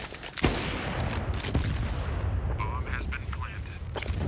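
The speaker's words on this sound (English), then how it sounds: "That's a hell of a grenade." A grenade goes off on the Overpass map in a Counter-Strike match, a sharp blast early on followed by scattered gunfire and game effects, all under continuous excited commentary.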